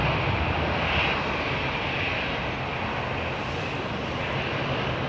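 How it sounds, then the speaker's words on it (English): Airliner taking off steeply at London Heathrow Airport, a broad, steady jet engine roar heard from the ground at moderate distance, holding level throughout with no talk. "It's like an air show takeoff."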